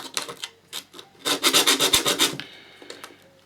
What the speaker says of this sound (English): just roughen it up on both sides